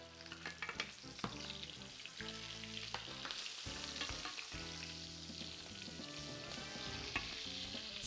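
Garlic roasting in a pan on a stove top over medium heat, turning golden and crusty, gives a steady close sizzle with scattered crackles and occasional stirring scrapes, alone and without talk.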